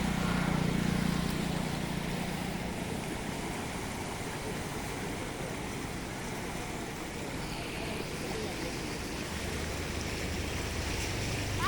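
Heavy floodwater rushes over a rain-damaged tarmac road in a broad, continuous roaring wash, loud and close and steady throughout.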